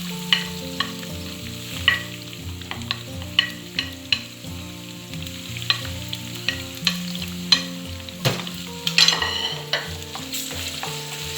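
Dried stingray fish stir-fried in oil with chili and salt: a steady sizzle broken by regular scraping stirs of the spoon about every second, over soft background music.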